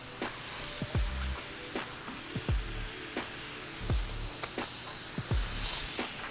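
A burger patty sizzles in butter on a Steelmade flat top griddle, a constant loud hiss with repeated sharp pops and spatters scattered throughout.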